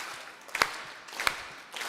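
Two sharp hand claps about two thirds of a second apart from a group of children at a kids camp, fairly faint over a low room hum, with a third weaker clap starting at the end.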